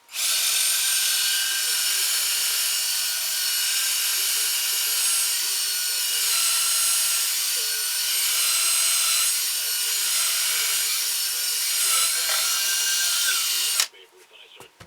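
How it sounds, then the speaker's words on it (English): A power drill with a 1/4-inch bit bores into a wooden ventriloquist dummy figure, a loud steady high whine running unbroken for about fourteen seconds before cutting off abruptly. "I'm going to use a 1/4-inch drill bit for this."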